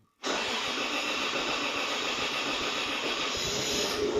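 A Toyota Chaser engine is cranked and fires after the fuel pump fuse is refitted, jumping abruptly from silence into a loud, steady roar that holds close and constant with no talk.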